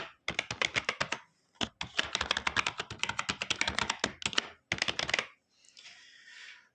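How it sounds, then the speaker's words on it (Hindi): Rapid clattering keystrokes on a computer keyboard as a password is typed, in close bursts with short pauses, ending in a softer hiss. "यूजर नेम इसको दे देता हूं मंजीत और पासवर्ड डाल देते हैं"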